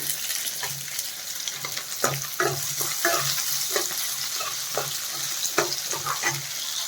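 Green chilies and onion frying in a pan while being stirred, a steady sizzle with repeated scraping stirs of a spoon against the pan, close up and without talk.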